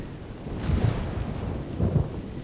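Rumbling thunder from a thunderstorm in the game theHunter: Primal, with two low swells of rolling thunder over steady storm noise, heard alone without talk.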